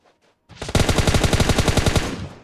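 Automatic gunfire in PUBG Mobile: a short silence, then a loud, fast, steady burst of about twenty rounds sprayed continuously for around a second and a half, close and alone with no talk.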